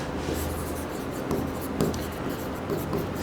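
Pen or pencil writing on paper while working through a Class 10 maths problem on linear equations, a steady close scratching texture with light strokes and taps, no voices.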